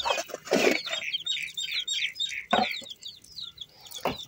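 A chicken clucking close by outdoors, a run of short repeated clucks with a few louder squawks between them.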